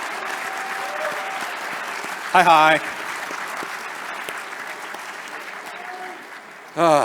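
An audience at a PAX East gaming convention panel applauds steadily at moderate volume, with a short spoken greeting breaking in midway and another voice at the end.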